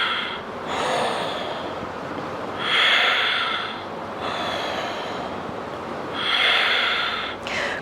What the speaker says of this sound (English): Tuck, breathing in, breathing out.